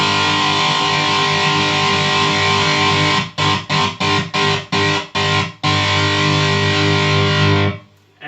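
LTD Alex Skolnick signature electric guitar played loud with heavy distortion: a long sustained ringing chord, then a burst of sharp rhythmic stabs, then another held chord that fades out.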